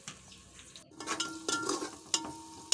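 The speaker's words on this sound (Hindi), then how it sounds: "हमने प्याज और लहसुन को ब्राउन कर लिया है। अब हम इसमें डालेंगे तमाम मसाले।" Spices fry and sizzle with browned onion and garlic in a pan for a turnip and meat dish as a spoon stirs and scrapes, with a few metallic knocks against the pot.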